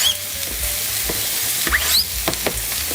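Onions sizzle in hot fat in a pan, a loud, steady hiss with scattered crackles and a few short stirring scrapes.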